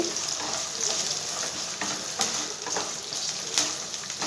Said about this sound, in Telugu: ఇది మంచిగా వేగించుకోవాలి కొంచెం కలర్ మారేంత వరకు ఇవి వేగాలండి